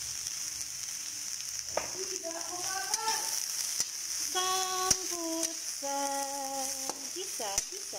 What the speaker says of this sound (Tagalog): Gisa.